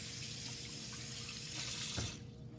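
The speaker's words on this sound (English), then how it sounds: "Wash my hands here." Water runs steadily from a kitchen tap as hands are rinsed under it, a close, continuous hiss and splash that cuts off abruptly near the end.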